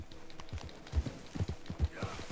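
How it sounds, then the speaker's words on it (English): Horse hooves clip-clopping closer in Red Dead Redemption 2, a steady rhythmic trot of dull thuds over low ambient game noise. "Vem o cavalo, olha ele aí"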